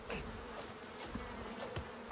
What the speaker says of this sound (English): What, bees in here?